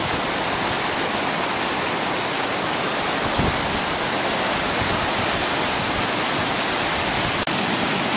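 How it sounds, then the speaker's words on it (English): Spring runoff rushing down a canyon creek in April, loud and steady broadband roar of churning water with no pauses, close to the microphone and alone without speech. "A lot of water coming down the canyon."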